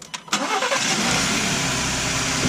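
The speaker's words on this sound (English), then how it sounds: "Go ahead and try to start it." A car engine cranks briefly and catches while boosted by a TOPDON JumpSurge 1200 jump starter, then settles into a loud, steady idle close by.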